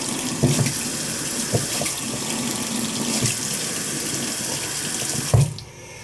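Water runs steadily from a repaired kitchen faucet fitted with a new aerator, a close, continuous splashing hiss into the sink that cuts off sharply near the end.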